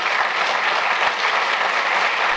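Steady, dense applause from an audience at a White House event, close and loud, continuous clapping with no break and no voices.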